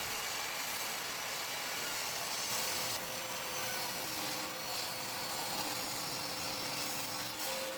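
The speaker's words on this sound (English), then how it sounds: "Rip them to width." A saw rips 3/4 inch scrap wood stock to width in a continuous, even whir of cutting that stays fairly quiet and unbroken throughout.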